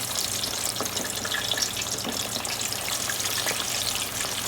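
Chicken wings frying in hot grease, a steady close sizzle full of dense crackling pops that holds the same loudness throughout, with no voices.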